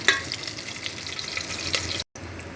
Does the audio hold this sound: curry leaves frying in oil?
yes